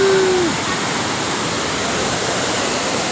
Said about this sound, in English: The water is falling down.